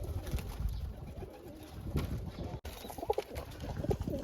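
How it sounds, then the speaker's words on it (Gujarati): Pigeons coo close by in soft, repeated throaty calls over light background rustling. "જો કબૂતર આવી ગયા છે પાછા"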